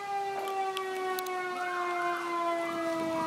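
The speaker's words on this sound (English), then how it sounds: "You can probably already hear the sirens." A fire truck siren wails in a steady, sustained tone with a rising and falling sweep, heard clearly at moderate distance throughout without any talking.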